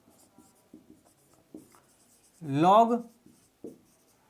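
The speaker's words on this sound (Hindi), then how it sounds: "मैं इधर लिखता हूं" A marker or chalk writes on a board in short scratchy strokes, interrupted by a spoken word from a teacher.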